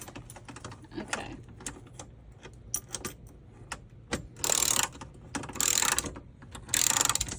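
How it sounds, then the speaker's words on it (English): A ratchet tightens bolts while a swivel seat is installed in a van conversion. Rapid clicking comes close and clear in bursts, with louder ratcheting runs near the end and no talk over it. "So we're just tightening down the 4 bolts on the outside or the back side."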